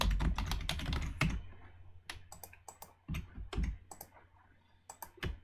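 Rapid clicking keystrokes on a computer keyboard, typed in irregular bursts with short pauses, close and fairly quiet with no talking.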